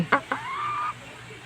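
A pet chicken gives a few short clucks followed by a longer drawn-out call, close and fairly quiet, with no talk over it.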